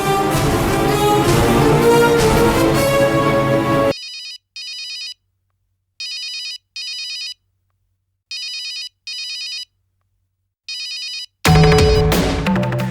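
A telephone rings in repeated pairs of electronic trills with silent gaps between them. Loud music plays before and after the ringing.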